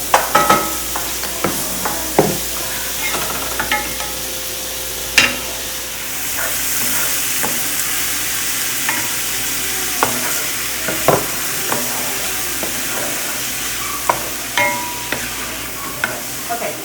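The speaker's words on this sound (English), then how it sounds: "let it go for about 5 minutes. That way we can get these onions nice and cooked down. And just stir it occasionally while you're cooking it." Onions frying in a pan, a steady loud sizzle running throughout with repeated scraping and clacking strokes of a utensil stirring them, no talking.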